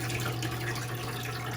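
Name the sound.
water draining slowly from Manitowoc ice machine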